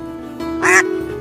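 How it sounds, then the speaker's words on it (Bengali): A farm duck in a cartoon gives one loud, nasal quack, preceded by a fainter call, over a steady background tone. "খামারের হাঁসগুলো তখন জোরে জোরে ডাকতে শুরু করে।"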